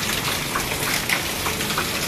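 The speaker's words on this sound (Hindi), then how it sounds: "एकदम से जो है वो अचानक हो गई है बारिश।" Sudden heavy rain pouring down during an Independence Day outing in Pakistan, a steady close wash of falling water and splashing drops with no talk.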